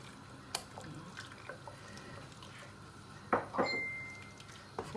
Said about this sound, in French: Une fois qu'on a mis la farine et l'eau, il faut bien mélanger le tout.